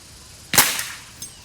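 A single sharp snap of a slingshot shot striking a target, followed by a short ringing decay and a faint second tap.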